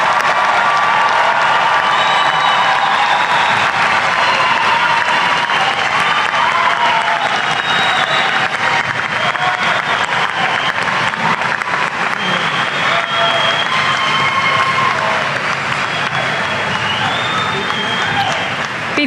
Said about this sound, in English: Please let's give our associate and baccalaureate students another round of applause.